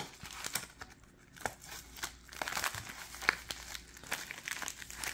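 A paper mailer envelope being cut open, faint crinkling and rustling of paper with small snips and crackles, close and quiet.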